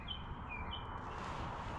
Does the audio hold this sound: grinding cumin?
no